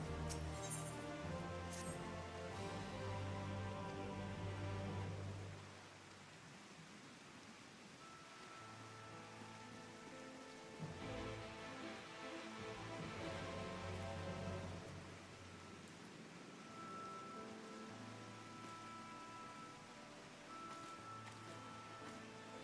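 Steady soft rain hisses in Final Fantasy XIV, a continuous wash of falling drops under game music, fairly faint and even throughout.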